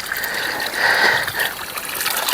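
Cold spring water runs steadily from a source in Sarthal Valley, Kathua, a loud continuous splashing trickle close by with no talking.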